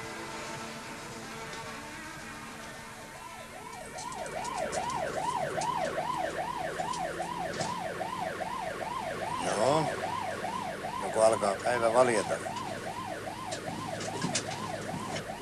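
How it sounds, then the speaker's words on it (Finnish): An ambulance siren wails in a steady up-and-down cycle, loud and close over a vehicle's road rumble, while a few words of speech pass in the foreground. "Ambulanssissa. Matkalla sairaalaan."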